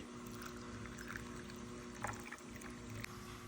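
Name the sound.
water poured into a glass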